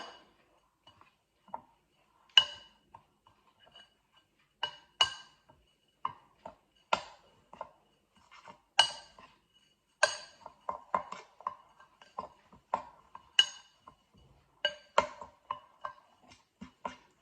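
A spoon scrapes and clinks repeatedly in a bowl as oats and other flapjack ingredients are mixed together, giving irregular light taps and scrapes, close and fairly quiet, with no talking.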